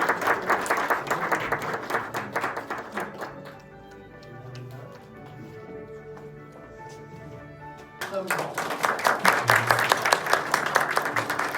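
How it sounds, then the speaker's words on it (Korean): An audience at a Korean welfare centre's 30th anniversary ceremony applauds an award recipient, in a dense burst that fades into a quieter stretch with soft music before a second strong round of clapping. "축하의 박수"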